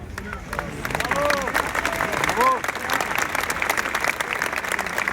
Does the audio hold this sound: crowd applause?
yes